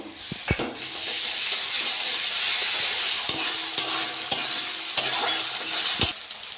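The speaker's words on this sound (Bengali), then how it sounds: "পেঁয়াজটা একটু ভাজা ভাজা করে নিয়েছি আদা রসুন বাটা এক চামচ দিয়ে দেবো" Onion and ginger-garlic paste sizzle steadily in a hot pan, with several sharp scraping knocks of a spatula stirring through the frying, close and fairly loud with no talking.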